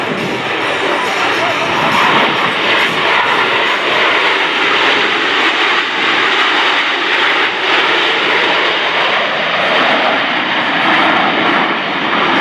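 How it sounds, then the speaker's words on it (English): Blue Angels jets roar past at the NAS Oceana air show, a loud, continuous broadband rush from a close four-aircraft formation that holds steady across the whole stretch, with an announcer talking over it. "Close look at the precision flying that produces the 18-inch wingtip to canopy separation between these 4 aircraft."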